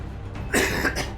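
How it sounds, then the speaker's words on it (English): A single harsh cough bursts out after a quiet moment, followed by a shorter second cough, close and fairly loud. "I had a nasty cough."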